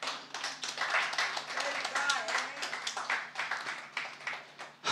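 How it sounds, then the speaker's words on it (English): A church congregation at a Pentecost service claps hands together, an uneven patter of individual claps close by, with voices talking over it. "Can we give the Lord a hand clap this morning?"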